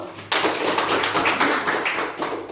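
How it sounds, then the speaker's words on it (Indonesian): A classroom of students claps hands, breaking in suddenly after a quiet moment and continuing as a dense, steady patter of many claps. "Tepuk tangan dulu."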